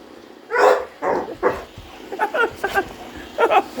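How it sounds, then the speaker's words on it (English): A Staffordshire bull terrier barks repeatedly at a toy robot, a few strong close barks followed by a quicker run of shorter yips and barks, loud and near with no talk over them. "Dog, what is it? What is it, Dog?"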